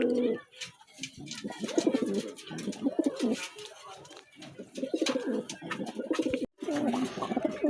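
Several pigeons, including magpie pigeons, coo in overlapping, throaty rolls close by, with wing flutters and rustling in between, the cooing fairly loud and continuous.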